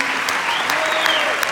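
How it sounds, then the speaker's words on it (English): Steady audience applause at a French-language film event, dense clapping from a large room sustained throughout with some voices faintly mixed in. "Je voudrais qu'on les applaudisse."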